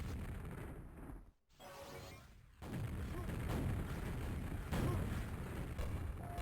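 Rocket jump explosion in Quakeworld, several loud game booms and blasts, with a brief quiet gap before the noisy action picks up again.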